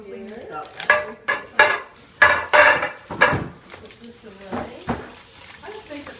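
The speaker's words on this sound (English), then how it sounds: "And I cut them up into like tablespoon sizes." A knife cuts cold butter into tablespoon-sized pieces, giving a few close, sharp taps and clunks on a board in quick succession, then quieter handling noises, with some speech nearby.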